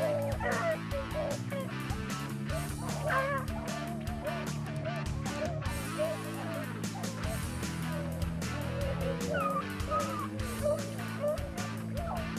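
A pack of rabbit hunting dogs bays and yips steadily through a field hunt, overlapping howls and barks rising and falling in a continuous, loud chorus with no pauses.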